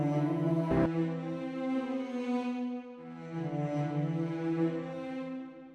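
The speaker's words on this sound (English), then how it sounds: "one of the patches in a flatus. It's the Scene d'Amour cellos." Sustained cello section notes from the Afflatus Scene d'Amour cellos patch swell in two long, soft legato phrases, with a brief percussive tick near the start and no voices.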